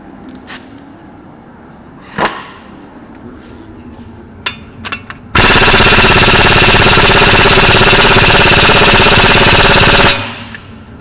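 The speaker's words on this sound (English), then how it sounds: "let's see if we can get the bigger impact torque on them" A large impact wrench hammers at the lug bolts of a New Holland 9482 tractor in one sustained, very loud, close burst of about five seconds, after a few quieter clanks and shop noises.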